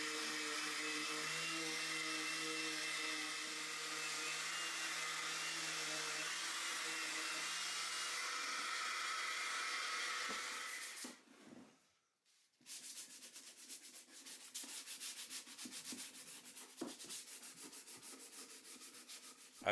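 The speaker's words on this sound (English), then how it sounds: "I start with the electric sander and end by hand sanding at 220 grit." An electric sander whines steadily against a 2x4 wood frame for about ten seconds, then cuts out; after a brief pause comes rough, rhythmic hand sanding with 220 grit paper, close and scratchy, with no talking.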